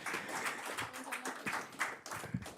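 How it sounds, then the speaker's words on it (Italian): An audience applauds athlete Annalita Scalzotto at a presentation of the European Orienteering Championships 2023, giving a soft, distant patter of many hands clapping that holds steady throughout, with a faint voice underneath. "facciamo un bel applauso a Annalita Scalzotto che è qui"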